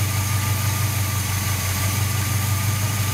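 A tired, high-mileage 1978 Chevy C-10 engine idles with a carburetor tuned to give it a lope, a steady low rumble with a rhythmic pulsing throb, close and continuous.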